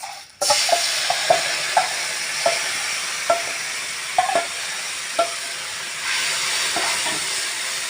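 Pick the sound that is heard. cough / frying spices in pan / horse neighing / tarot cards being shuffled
frying spices in pan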